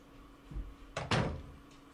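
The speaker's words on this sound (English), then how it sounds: "Try this door." A door in the Silent Hill 2 video game opens with a soft creak followed by two sharp, close knocks or thuds, heard alone against a low ambient hum.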